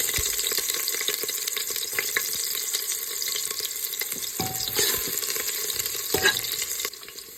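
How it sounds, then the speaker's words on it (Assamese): Whole cumin seeds and onion fry in hot oil, giving a steady, close sizzle and crackle with occasional louder spits and stirring scrapes throughout. "এইফালে তেল গৰম হৈ গৈছে, দি দিছোঁ কেইটামান গোটা জিৰা। আৰু দিছোঁ পিঁয়াজ।"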